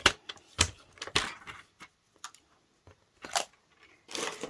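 Card paper being trimmed for a panoramic card, heard as scattered soft crisp snips and crunchy cuts in irregular bursts, close and fairly quiet, with pauses between cuts and no talking.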